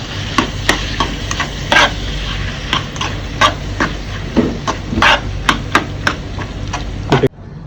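Pressure-cooked beef tripe fry is stirred in a pan, with a spoon knocking against the metal in irregular sharp clacks and scrapes over a low background hum, loud and close.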